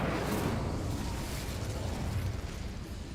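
An Incendio fire spell cast in Hogwarts Legacy, a dense roaring whoosh of flame that starts loud and holds steady, slowly thinning over a few seconds without any voices.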